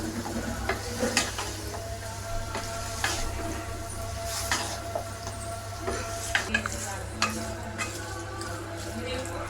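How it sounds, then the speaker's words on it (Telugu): Gongura chicken curry stirred in a pan over a steady sizzle, with repeated scraping and clinking of the spoon against the metal. "మొత్తం కలుపుదాం."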